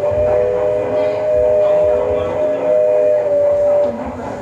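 A small toy food-delivery train in a restaurant hums and rattles continuously along its track, with a steady whistle-like tone sounding over the running noise.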